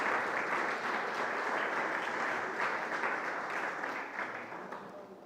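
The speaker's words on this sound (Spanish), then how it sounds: "Denle un aplauso al Señor" Sustained applause from a church congregation during a sermon, steady and fairly loud for several seconds, then tapering off slightly at the end, with no voices over it.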